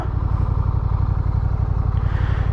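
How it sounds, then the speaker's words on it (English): A motorcycle engine idles steadily as the bike creeps forward with the clutch eased out and no throttle, a continuous close, even, pulsing low rumble throughout. "Couple of steps, no throttle, just idling forward."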